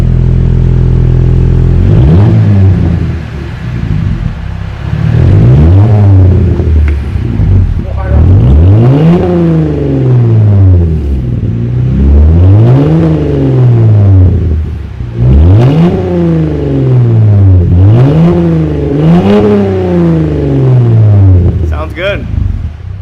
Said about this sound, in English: here's the first start up with the straight pipe